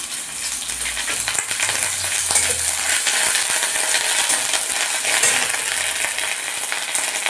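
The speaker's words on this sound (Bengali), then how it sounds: "পেঁয়াজটা একটু ভেজে নেব।" Onion with green chili and ginger-garlic paste fries loudly in a pan for cabbage chorchori, giving a steady, hissing sizzle with occasional clinks and no voices.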